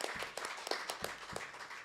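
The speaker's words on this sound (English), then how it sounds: "Give them a round of applause." An audience applauds at a mentorship talk, a small, fairly faint round of scattered hand claps with uneven sharp hits over about two seconds.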